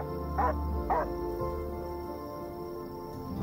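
A dog whimpers in the video game Undawn, with two short whines close together near the start over a steady background drone, and voices speak around them.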